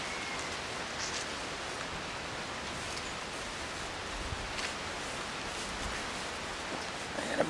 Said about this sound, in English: I gotta move us in out of the rain.